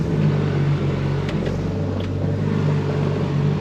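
A BMW E30 with a swapped 2JZ engine and dual-clutch transmission reverses slowly across a parking lot, its engine giving a loud, steady low rumble heard from inside the car.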